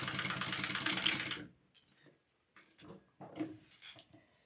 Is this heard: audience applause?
no